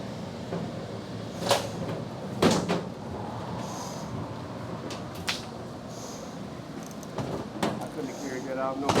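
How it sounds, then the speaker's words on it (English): A door opened during a laundromat remodel, giving a few sharp clunks and creaks from handling amid steady room noise, with low background voices. "All right, open up the door."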